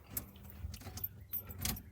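Keys jangle and click as a key turns in the steering column ignition of a 1984 car, making a few short, faint metallic rattles up close.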